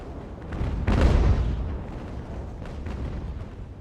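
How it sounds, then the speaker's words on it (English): Sailing-ship cannon fire in Ultimate Admiral: Age of Sail, a heavy booming broadside near the one-second mark that trails into rumbling echoes and scattered distant shots; no voices. "They're shooting my sails now."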